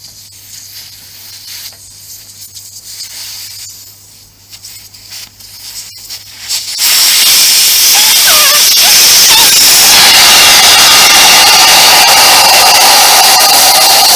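Air hisses loudly and steadily out of a Suzuki V-Strom 1000 motorcycle tyre once its valve core is removed, a sudden strong rush that replaces quieter background noise and holds on without a break.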